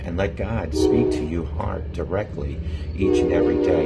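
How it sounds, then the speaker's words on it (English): A train horn sounds steadily in the background, with the hum of a passing train, during an early morning in Wilsons, Virginia, while a person speaks continuously over it. "I'm sorry about the train in the background."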